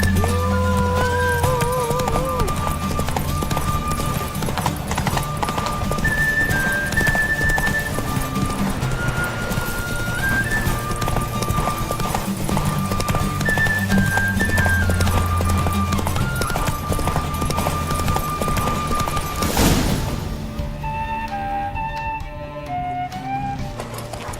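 Roach, a horse in the video game The Witcher 3, gallops with steady rhythmic hoofbeats under a musical score for a long stretch, the pace fading near the end.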